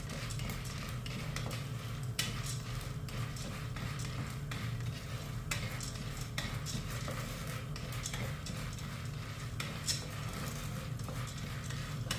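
Popcorn being stirred with salt in a pan, producing a continuous stream of light rattling clicks and scrapes for several seconds, close by and with no one speaking.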